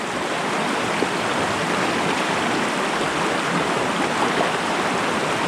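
Steady rushing creek water flows loud and close during a tenkara fly fishing outing, a broadband wash with no breaks from start to finish.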